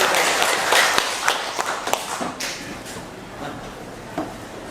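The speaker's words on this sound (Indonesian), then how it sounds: "Tepuk tangan untuk Pak Denny ya." Scattered, uneven hand claps in a classroom-style gathering for a teacher named Pak Denny, a few sharp slaps standing out over a noisy room before thinning out.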